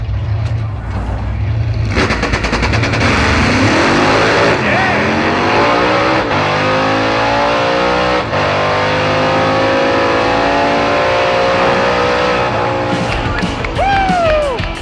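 Hot rod drag car launching and accelerating hard down the strip at Drag Week, a loud sustained engine roar climbing through the revs, with a crowd and other engines around it.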